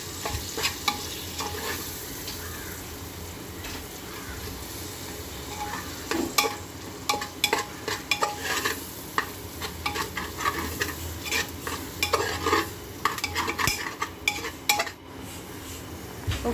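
A spatula stirs and scrapes a tomato mixture frying in a pan for a Kochi-style beef rice dish, with steady sizzling under irregular metallic scrapes and clinks of utensil on pot, close and continuous, with no talking.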